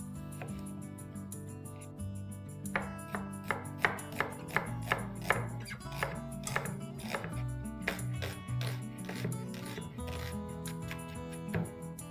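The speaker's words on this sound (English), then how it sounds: "let's quickly slice few onions" A knife slicing onions on a kitchen counter: a quick, steady run of light, crisp cuts, close and fairly quiet, over a faint background hum.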